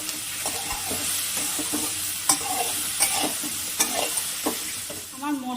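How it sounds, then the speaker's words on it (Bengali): Spice paste and potatoes frying in a pan for aloo posto: a continuous close sizzle broken by repeated sharp scrapes and clinks of a spatula stirring against the pan. "আমার মশলাটা আলুর সাথে ভাজা হয়ে গেছে।"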